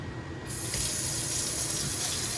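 Hedgehog mushrooms rinsed under a steady stream of running tap water at a kitchen sink, a continuous close splashing gush that starts up sharply and holds evenly, with no talking.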